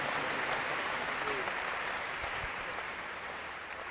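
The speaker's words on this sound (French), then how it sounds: "On peut acclamer le Seigneur, c'est une bonne chose" A church congregation in Brazzaville applauds steadily in praise of God, a dense and even wash of clapping that holds for several seconds and fades slightly at the end.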